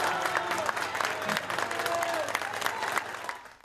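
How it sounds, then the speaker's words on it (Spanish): Applause from an assembled audience greeting the President of the Republic as he enters, dense steady clapping throughout with some crowd noise and faint talk mixed in. "El presidente fue recibido con aplausos."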